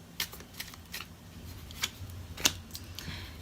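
Tarot cards being shuffled and drawn from a deck, close and quiet, with a series of crisp, separate flicks and snaps spaced irregularly and no voice.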